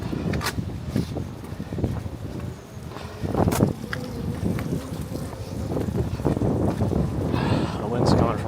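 Gusty wind buffets the microphone on a city walk from Brooklyn toward Manhattan, a continuous loud rumbling roar with voices talking underneath.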